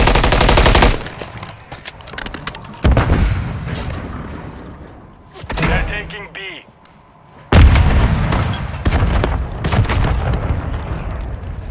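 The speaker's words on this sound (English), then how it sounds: "I'm getting shot at, but I'm not sure where." Loud bursts of gunfire and booming explosions from a Call of Duty Modern Warfare 3 hardcore Control match, heard in several heavy stretches with brief quieter gaps between them.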